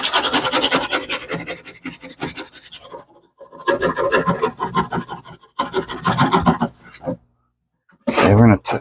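A fish tank is scrubbed clean with repeated rasping strokes in rhythmic bursts separated by brief pauses, close and fairly loud, ending with a sharper scrape.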